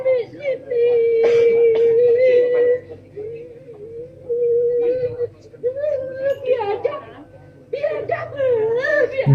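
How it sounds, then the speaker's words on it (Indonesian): A person cries in sorrow after being hit by tear gas at a stadium, with high wavering sobs and whimpers coming in broken bursts separated by short pauses, close and loud. "tangisannya itu pilu banget"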